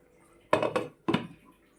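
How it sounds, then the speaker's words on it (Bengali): Metal lid set down on a cooking pot of fried fish in a home kitchen: two close, sharp clattering knocks, the first a quick double clink, the second a single clank ringing briefly, then quiet. "একটা ঢাকনা দিয়ে দেব।"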